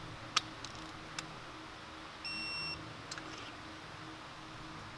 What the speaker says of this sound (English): We're going to be torquing this spark plug to 15 foot-pounds.